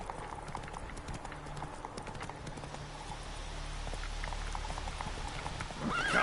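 Roach, a horse in The Witcher 3 on PS5, gallops in a steady rapid clip-clop of hooves that stays close and continuous throughout, with no voice over it.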